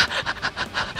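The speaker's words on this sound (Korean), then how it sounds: "저 가쁜 숨소리 뭔데?" Heavy, rapid panting breaths in a steady rhythm of about five gasps, close and loud, heard alone in a tense hide-and-seek style game moment.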